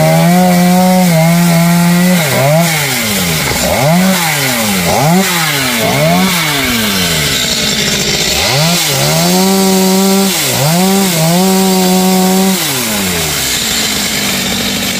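A chainsaw cuts into large khaya trees near three-phase power lines. The engine is loud and close, revving repeatedly in rising and falling surges as the blade bites into wood, and it runs continuously without voices.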